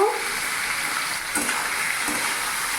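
Chicken stirred and fried in a pan over medium heat, a steady close sizzle with a few brief scraping stirs, and no talking.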